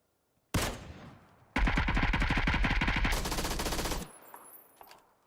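SMG fire in the video game PUBG: a short burst, then a long sustained spray of rapid, evenly spaced shots lasting about two and a half seconds, loud and close, tailing off into faint distant gunfire.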